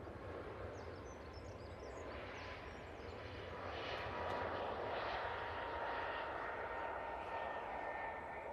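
A TUI airliner touches down at Manchester Airport trailing tyre smoke, its engine roar a steady broadband rush that swells slightly midway and holds loud to the end, with no talk over it.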